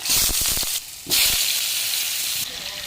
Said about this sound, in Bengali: এই তেলের মধ্যে আলুগুলোকে ভেজে নেব।